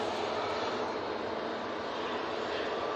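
A small Embraer jet comes in to land in stormy, windy weather, giving a continuous, fairly loud broadband engine rush with no break or pause.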